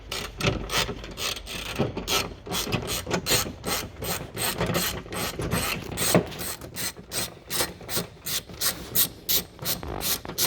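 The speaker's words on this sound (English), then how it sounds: "Now using 10mm ratchet, undo the 10mm bolts." A 10mm ratchet undoes the tailgate bolts on an Audi A3 8P, giving rapid, close clicking and rasping bursts in quick repeated strokes without speech.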